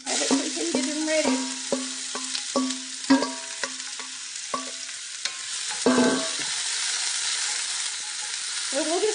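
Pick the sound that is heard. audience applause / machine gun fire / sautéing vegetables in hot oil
sautéing vegetables in hot oil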